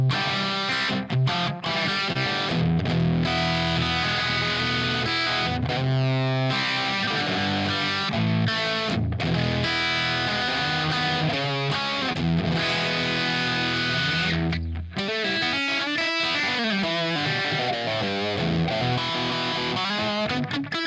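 Strummed electric guitar through an effects unit with a repeating echo and mild distortion, playing steadily and close for about twenty seconds with no talking.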